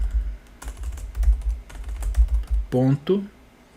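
Rapid clicking of computer keyboard keys while typing code, steady and close, with a voice speaking briefly near the end.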